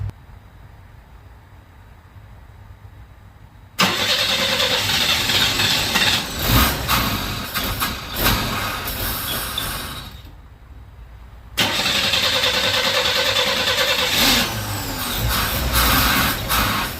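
A 1961 Chevy Bel Air cranks on its new starter and its engine fires up loud and close, runs roughly, dips briefly as if nearly stalling, then catches again and keeps running steadily.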